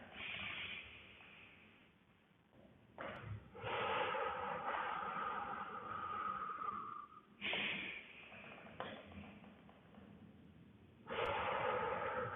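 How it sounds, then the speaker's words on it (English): Breathy exhalations during a Pilates back and core exercise, several forceful hissing breaths out in uneven bursts, close and fairly loud with no talking. "You'll also notice that we're exhaling."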